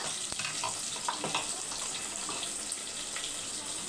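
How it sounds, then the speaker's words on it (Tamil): Curry leaves and coriander fry in oil in a pan for a village-style chicken curry, giving a steady close sizzle with scattered small crackles and pops throughout, with no talking. "இது கூடயே கொஞ்சம் கருவேப்பிலை கொ கொத்தமல்லி நல்லா பொறிஞ்சி வந்தோடனே"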